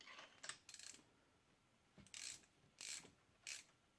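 A ratchet clicks in short bursts while tightening a spark plug a quarter turn on a Dodge Ram 1500 5.7L Hemi, several quick close ratcheting runs separated by pauses.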